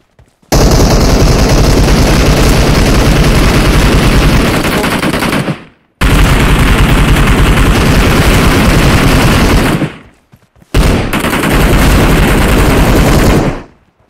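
Rapid automatic gunfire in PUBG Mobile, three long, loud, unbroken bursts separated by brief silences, harsh and close with no talking over it.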